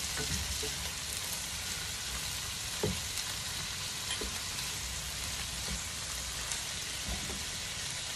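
Spicy squid frying in a pan gives a continuous dense sizzle and crackle, with occasional soft knocks and pops rising over the steady hiss, close and unbroken, with no talking.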